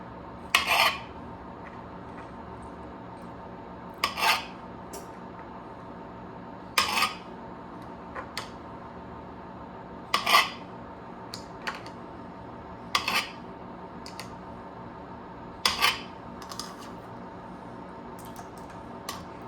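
Knife slicing pitted olives in half on a cutting board for a Greek-style egg casserole, sharp short tapping cuts in pairs at a slow, steady pace every few seconds, close and fairly quiet, without talk.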